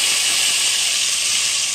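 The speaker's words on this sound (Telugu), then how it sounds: "తాలింపు ఎత్తి దీంట్లో వేసేసుకోవడమే" Hot tempering is poured into a gongura chicken curry and sizzles, a loud, close, continuous hiss that holds steady for the whole moment with no talking.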